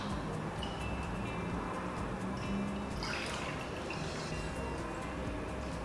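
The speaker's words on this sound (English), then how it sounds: "just carefully ladle all the liquid with some of the solids" Faint liquid splashing and dribbling as beef bone broth is ladled and poured through a strainer, over a steady low background hum.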